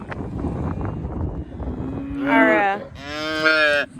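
A calf in a pasture gives two loud, close moos in quick succession after a stretch of low background rumble.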